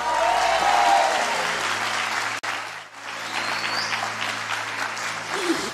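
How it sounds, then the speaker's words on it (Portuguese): A church congregation applauds during a sermon, dense and loud clapping that briefly drops out, then resumes at a steady level. "Se você está feliz, aplauda o Senhor."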